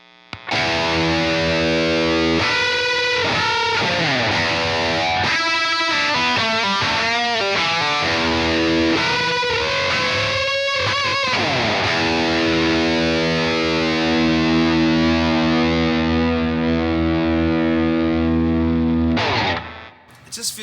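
An electric guitar runs through a distortion pedal, thick sustained chords and bending notes with choppy rhythmic stabs in between, loud and continuous, ending on a ringing held chord.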